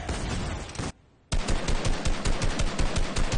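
Rapid video game gunfire, a loud dense automatic burst, a brief near-silent gap, then another sustained rattling stream of shots.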